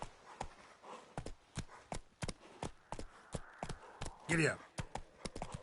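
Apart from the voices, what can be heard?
horse galloping in video game The Witcher 3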